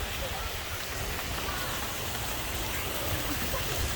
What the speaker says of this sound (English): Some fountains.